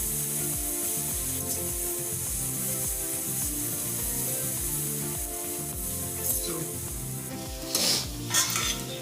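A spoon scrapes and stirs a home-style carrot bhaji with salt, peanuts, garlic and chilli in a sizzling pan, in a steady, repetitive rhythm close up, with no talking.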